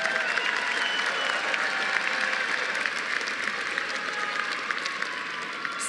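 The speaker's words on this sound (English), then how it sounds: "give them a big round of applause because you're here because of them" Loud, sustained applause from a large crowd at a Norwalk High School and PTECH-Norwalk graduation, honoring the graduates' parents and families, dense steady clapping filling the hall for several seconds.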